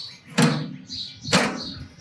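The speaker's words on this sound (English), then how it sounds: "You open the door." Door of a Scorpio oven swinging open, two distinct near clunks about a second apart with faint metallic squeaks between them.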